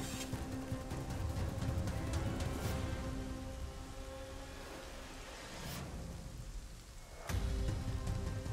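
Steady rain patters across an outdoor scene in the survival game Rust, a dense continuous hiss with brief dips and swells, no voices present.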